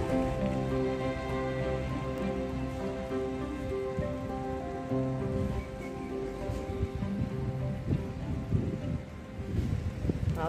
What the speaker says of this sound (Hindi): ज़्यादा तेज नहीं बारिश हो रहा,